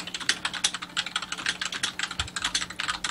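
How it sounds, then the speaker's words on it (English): Loud, fast typing on a computer keyboard, a dense run of crisp key clicks in quick, uneven bursts, close to the microphone with a faint steady hum underneath and no voices. "like very loud typing"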